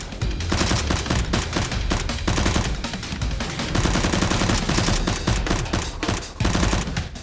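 Rapid, continuous toy-gun fire rattles through a staged Nerf battle against a masked boss and henchmen, dense bursts of shots layered with loud action sound effects for the whole stretch.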